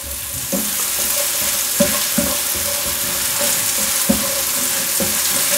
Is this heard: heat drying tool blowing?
no